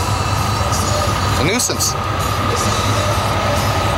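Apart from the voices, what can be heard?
train passing at a rail crossing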